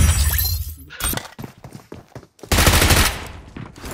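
Gunfire in the mobile game PUBG Mobile, with rapid bursts of shots and sharp cracks, a quieter stretch, then another loud sustained volley, all close and dense.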